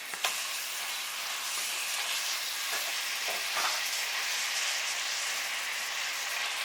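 Two pounds of lean ground turkey frying in olive oil while a wooden spoon breaks it up, a close, even sizzle with a few soft scraping knocks from the spoon and no voices.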